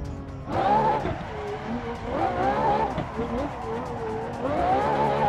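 A Ferrari drifts in the racing game Assetto Corsa, its engine droning and wavering in pitch while tires squeal in long sliding whines, with someone talking excitedly over the car sound.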